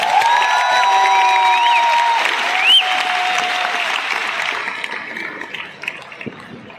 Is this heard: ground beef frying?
no